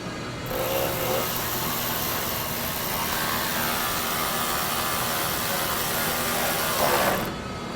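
An Ingersoll Rand IQv 12-volt cordless quarter-drive tool runs in a body shop, giving a fairly faint, continuous whirring buzz set against general shop noise, starting and stopping near the ends.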